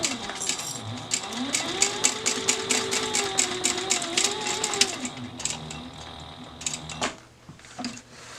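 A sewing machine stitching the final edge of a bag, rapid needle clatter in short start-and-stop runs with a motor whine rising and falling beneath, close by, ending with a few clicks and a quieter pause.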